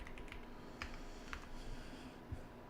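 Fast, irregular typing on a computer keyboard during a TypeRacer game, a steady patter of soft key taps with a few sharper strokes, moderately quiet and close.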